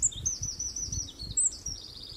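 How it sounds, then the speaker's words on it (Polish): Skylark singing outdoors on a rural homestead, a continuous high, warbling stream of trills and chirps over a low rumbling background, with no talking. "ale to skowronek."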